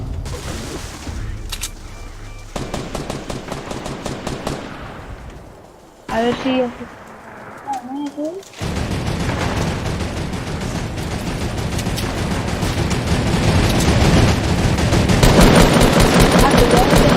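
Minigun fire in a video game mode, long dense bursts of rapid mechanical gunfire with a short break of synthetic chirps, while someone talks over the shooting.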